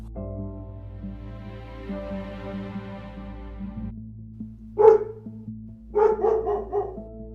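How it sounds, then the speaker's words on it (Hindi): A dog barks in short bursts, two or three clustered yaps near the end after a low hum, fairly close with no talking. "कैलाश, क्या तुम अब कुत्ता बन गए हो?"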